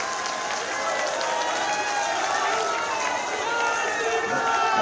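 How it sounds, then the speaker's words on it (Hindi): A large crowd at a political rally in Haldwani claps in a dense, sustained wash of applause that swells slightly toward the end, with a voice carrying over it. "एक बार जोरदार तालियां बजा के सब स्वागत करिए भाई"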